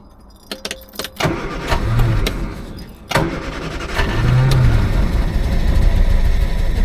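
A Triumph Herald car engine cranks and catches with the choke pulled out, a few clicks first, then a strong start around three seconds that settles into a loud, rough, steady idle up close.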